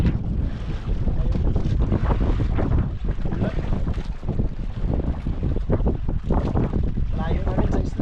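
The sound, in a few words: strong sea waves and wind around a fishing boat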